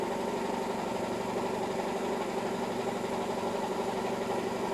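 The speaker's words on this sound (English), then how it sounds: "give me just a second for the compressor to shut off." Compressor running with a steady, even mechanical hum and vibration, constant and close throughout with no shutoff heard and no talk.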